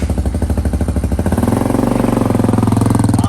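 An Xpro Hawk EFI 250cc dirt bike engine runs close by, with rapid throbbing pulses that quicken and settle into a steadier, louder drone as the bike pulls away on a ride.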